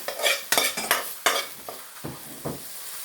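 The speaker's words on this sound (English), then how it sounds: "we're back with the sauteed mushroom" Mushrooms sauté in a pan with a soft sizzle, broken by several sharp scrapes and clinks of a utensil stirring against the pan, fairly quiet and close.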